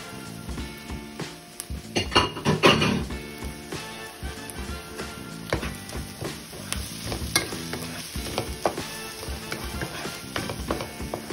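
Chicken pieces fry in a pan while being stirred, with a loud scraping clatter around the two-second mark followed by steady sizzling and repeated utensil knocks against the pan.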